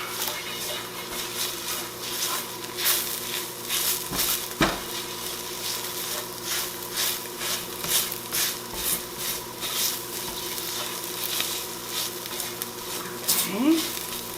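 Spices stirred into caramelized onions frying in a pan produce a steady sizzle with intermittent scraping and clinks of a utensil against the pan, while a person talks intermittently.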